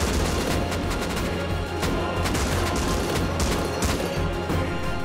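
Rapid gunfire from a raid in the survival game Rust, dense overlapping shots and bursts running continuously and loud throughout, with booming impacts mixed in.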